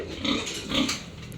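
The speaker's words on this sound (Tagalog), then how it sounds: "Kaya po ako po ay may alaga din pong isang baboy." A pet pig grunts close by, two or three short throaty grunts in quick succession, moderately loud with no talk over them.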